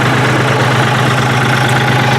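A tractor engine idles steadily with its PTO disengaged, giving a constant low rumble and mechanical hum that stays even and fairly loud throughout, with no talk.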